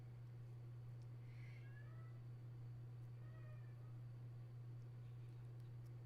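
A house cat meows softly a few times in the background of a home live stream, faint high calls rising over a constant low electrical hum.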